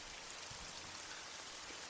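Steady rain falling in a dense, even hiss with no breaks, faint and fairly distant, no voices.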